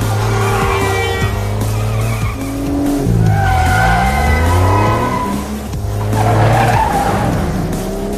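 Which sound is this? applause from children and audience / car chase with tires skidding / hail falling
car chase with tires skidding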